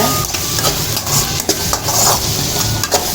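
Pepper powder, garam masala and turmeric being stirred into a pan for egg rice with potatoes, a close sizzle broken by repeated scraping and tapping of a spoon against the pan, no talk.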